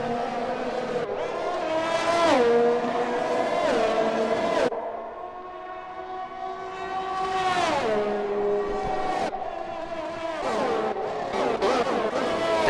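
Open-wheel race cars from the F1 2021 game at the Azerbaijan Grand Prix in an F3 league race, engines whining loud and continuous as they rise and drop through gear shifts, with commentary running over the top.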